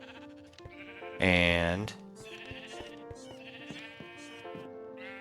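Crowded Minecraft sheep in a wool farm bleat repeatedly, with one loud, close bleat standing out among softer overlapping calls while someone talks over them.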